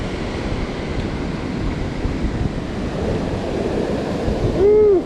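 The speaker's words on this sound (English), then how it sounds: "Look at them waves, boy." Ocean surf breaks steadily on a shore in the Outer Banks of North Carolina during a tropical storm, a loud continuous wash with wind buffeting the microphone and no voices.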